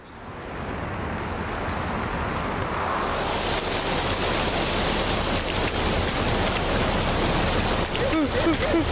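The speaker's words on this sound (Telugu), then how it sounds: "వర్షం ఎక్కువగా కురుస్తుంది." Heavy cartoon rain builds into a dense, steady downpour that roars loud and continuous, like surf, with a few faint tonal chirps near the end.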